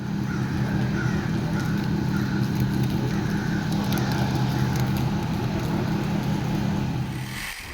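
A 1988 Ford Ranger STX engine idles steadily and loudly up close with a low, even rumble that holds for several seconds before tapering slightly at the end.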